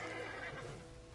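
A horse whinnies in a Red Dead Redemption western scene, a loud drawn-out neigh with faint hoof clatter beneath, heard close and without speech.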